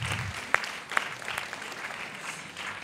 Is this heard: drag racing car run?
no